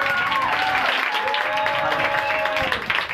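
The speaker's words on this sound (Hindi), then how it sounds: "आज जोरदार तालियां बजाएं।" An audience claps loudly at an anniversary gathering, a steady wash of applause with crowd noise and faint voices underneath.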